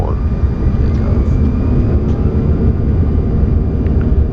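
Lufthansa Airbus A320 jet taking off from Bilbao, heard as a steady, loud engine roar filling the cockpit throughout, with faint crew voices beneath it.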